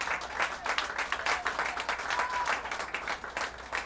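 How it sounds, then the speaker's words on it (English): A crowd applauds at a community event held at a Baptist church, brisk, dense clapping with a fluttering rhythm, moderately loud and continuous for a few seconds. "Let's give them a round of applause"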